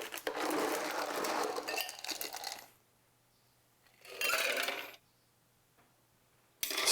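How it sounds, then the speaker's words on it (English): Ice cubes going into a cocktail shaker for a Rob Roy, heard as loud rattling, clinking bursts of ice against metal, separated by short quiet gaps, with no one talking. "so add some ice to this"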